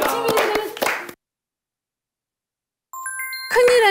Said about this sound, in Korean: 이건 박수 한번 쳐